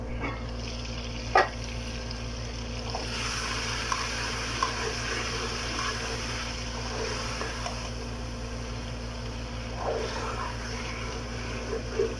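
Chicken curry sizzles steadily in a pot as water goes in, a continuous hiss and bubbling with a few brief clinks, fairly close and with no talking.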